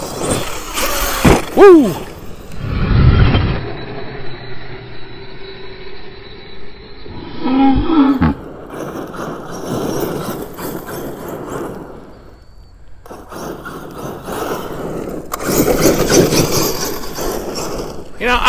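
An Arrma Kraton 8S RC car rips around while being bashed, its electric drive whining and surging in bursts as it accelerates and lands, with a brief excited shout from a person nearby.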